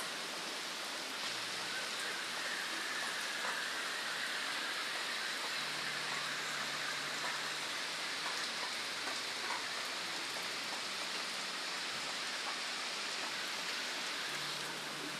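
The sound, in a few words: heavy rain falling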